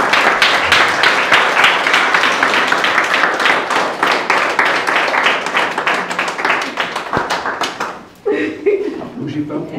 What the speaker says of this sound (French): pense qu'on peut encore les applaudir.